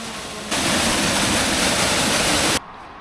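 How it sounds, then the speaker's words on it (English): Dolwyddelan Waterfall, reached early on a short nature walk, roars as a loud, steady broadband rush of falling water that starts abruptly and then cuts off, leaving quieter background. "this is Dolwyddelan Waterfall."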